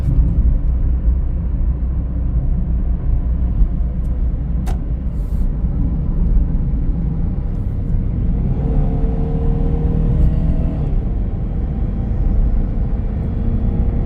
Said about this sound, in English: let's get the car up to freeway speed.